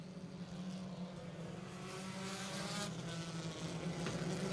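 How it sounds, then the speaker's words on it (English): Race car engine droning steadily at New Egypt Speedway, a continuous loud roar with a low, rough-sounding tone throughout, engines blending with other cars on the track. "And that car doesn't sound good tonight either, Pete."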